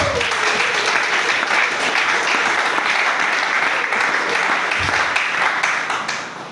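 A church congregation breaks into sustained, dense applause that fills the whole stretch at steady loudness, easing off slightly at the end, with faint voices mixed into the crowd.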